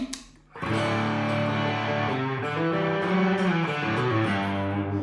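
A Fender Stratocaster with distortion has a nasal, midrange-heavy pickup tone. After a brief quiet lead-in, a loud chord is struck and rings with sustained, shifting notes, played up close with no talking.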